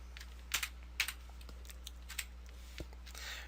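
Sparse keystrokes on a computer keyboard while a heading is typed into an HTML page, a few separate clicks with short pauses over a low steady hum.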